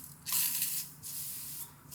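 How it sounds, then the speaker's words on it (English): Suede cleaner spray foam hisses onto a leather shoe in a few close, bright bursts, the longest first, with short pauses between them. "So you kind of spray it on the leather"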